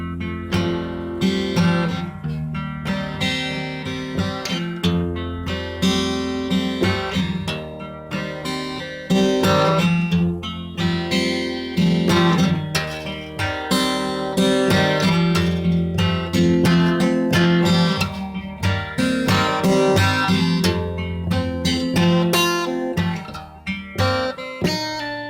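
Acoustic guitar, a Lyle W-46, plays a riff with an open high string, strummed chords ringing steadily and fairly loud throughout, with no voices.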